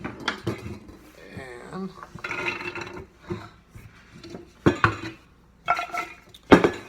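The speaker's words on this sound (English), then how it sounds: "scoop the carrots into the soup pan" Carrots scooped off a board into a soup pan by a quadriplegic cook, giving scattered knocks, scrapes and clinks of utensil against cookware in uneven bursts, a few sharp and close, with brief talk between them.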